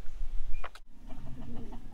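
Chickens cluck nearby in short bursts, a quick rising call followed by a series of softer clucks against outdoor background noise.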